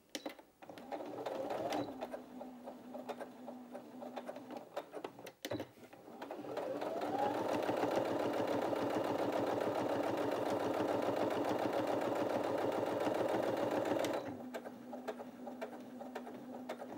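A Brother Innov-is 15 sewing machine stitching through folded fabric, starting slowly then running at a fast, steady mechanical whir for several seconds before slowing and stopping, close and fairly loud.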